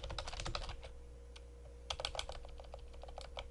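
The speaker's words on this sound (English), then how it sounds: "You can also use your phone's keyboard. So this is me simulating the keyboard here." Keys tapped on a keyboard as a stand-in for a phone keyboard with a telnet client, giving quick bursts of close, soft clicks, then a pause and another irregular run of keystrokes over a steady low hum, with no talking.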